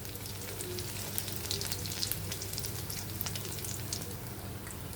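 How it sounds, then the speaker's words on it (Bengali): Small mola fish frying in hot oil, a dense even crackling sizzle with scattered pops, quiet and close, with no voices. "এভাবে আমরা সবকটি ভেজে নিব।"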